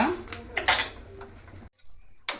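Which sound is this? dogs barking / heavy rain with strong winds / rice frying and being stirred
rice frying and being stirred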